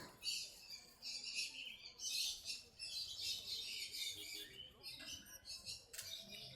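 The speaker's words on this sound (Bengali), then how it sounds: "বন্ধুরা লং টেল ফিঞ্জ দেখতে পাচ্ছেন সঙ্গে আউল ফিঞ্জও আছে" Long-tailed finches and owl finches at a Garia bird market keep up a busy chorus of small high chirps and tweets, overlapping in bursts with brief flutters, moderately close but quiet.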